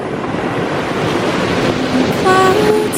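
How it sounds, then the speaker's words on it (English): Sea waves wash in on a snowy morning, a broad steady surf rush with some wind on the microphone, loud and continuous, and a brief voice or tone near the end. "There's actual waves this morning."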